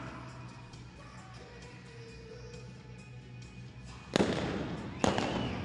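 Revolver gunshots fired from horseback during a mounted shooting competition, two loud sharp cracks about a second apart over steady crowd and arena ambience.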